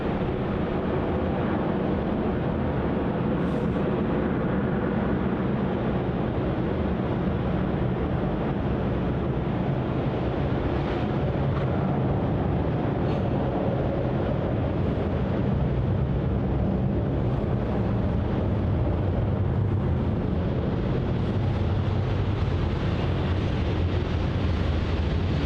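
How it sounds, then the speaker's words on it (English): A Philippine Airlines jet, flight PR 210 to Manila, spools up for takeoff on runway 27 at Melbourne Airport, a steady distant engine roar that swells slightly toward the end with no talk. "Looks like Philippines has turned on to runway 27 and spooled up, operating as PR 210 off to Manila."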